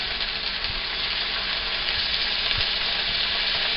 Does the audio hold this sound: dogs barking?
no